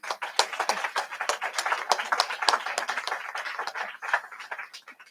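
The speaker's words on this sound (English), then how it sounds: "I think we can give you a warm applause for that." Audience applause after a presentation at a conference event: a modest group claps steadily for about five seconds, moderately close and fairly quiet, with no talk over it.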